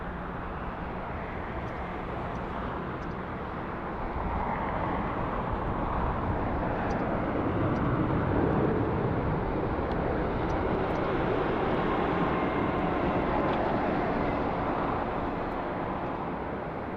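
An Aeromexico airliner passes along an airport runway, a broad steady jet roar that holds loud and constant for the whole stretch, swelling slightly midway as it goes by.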